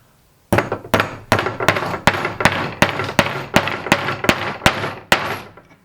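Hammer blows drive a nail into wood in a woodworking shop, about eleven sharp, evenly spaced strikes with ringing decay, close and loud with no talking.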